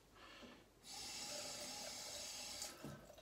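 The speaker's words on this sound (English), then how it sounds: "So we'll keep adding a bit of water, just putting some water onto the tips of the brush." Water from a tap runs onto the tips of a shaving brush. A steady, fairly faint splashing stream lasts a couple of seconds with softer trickles at either end.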